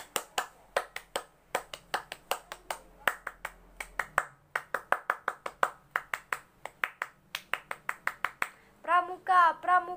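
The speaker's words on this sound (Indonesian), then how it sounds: "3 kali tepuk pramuka." Scout clapping pattern (tepuk pramuka) performed three times, crisp rhythmic hand claps in quick runs with brief pauses between groups, close and loud, followed by a short burst of spoken chanting.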